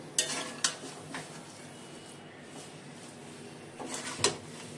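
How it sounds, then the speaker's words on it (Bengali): Cooked Gobindobhog rice basanti pulao is stirred in a pot with a spoon: a few scattered scrapes and clinks against the pot's side, soft and close, with a faint background hiss between them. "এখন নেড়ে দেখাচ্ছি গরম আছে এখনো"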